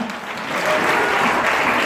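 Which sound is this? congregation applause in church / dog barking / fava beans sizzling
congregation applause in church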